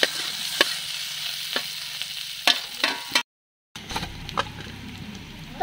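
Suran (elephant foot yam) frying in a pan of spiced oil, with a steady sizzle broken by several sharp clatters of a spoon against the pan, a brief cut to silence, then more sizzling and stirring.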